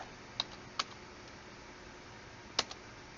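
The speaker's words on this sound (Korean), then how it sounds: "엔터 스페이스바를 쭉 눌러서 좀 옮긴 다음에" Computer keyboard keys struck a few times, including enter and the spacebar, three or four crisp isolated clicks close by over faint background hiss.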